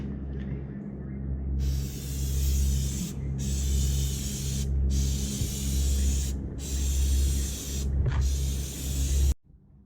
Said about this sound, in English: So we're going to spray the plastic dip now.